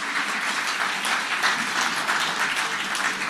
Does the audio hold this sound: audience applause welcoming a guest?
yes